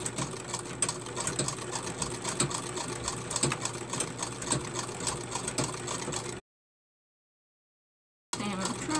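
A treadle sewing machine over a hundred years old stitches fabric for dice bags with a steady, rapid mechanical clatter, running for several seconds, then stopping abruptly for about two seconds before starting up again.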